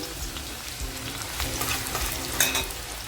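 Chopped onion fries in hot oil for misal, a continuous crackling sizzle close by with a brief louder spatter near the end.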